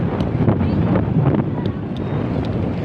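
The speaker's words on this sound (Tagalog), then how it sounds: "Lakas ng hangin." Strong wind on a white-sand beach at Calatagan, Batangas, blasting the microphone in a loud continuous rush with gusty swells, a few faint voices and clicks underneath.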